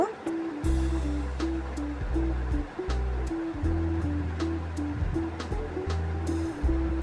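Okra fries with garlic paste in a pan, giving a steady close sizzle over a low humming drone that cuts in and out a few times.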